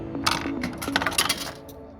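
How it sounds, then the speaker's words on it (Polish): A coin clinks and rattles as it drops into the metal slot of a car wash machine, a few quick metallic chinks close by. "I wrzucamy monetę tutaj."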